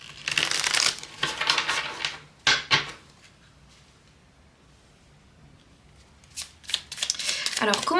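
Tarot cards are shuffled in bursts of crisp riffling and slapping, loud at the start, pausing into near quiet, then resuming with a couple of sharp card snaps; a voice speaks at the very end.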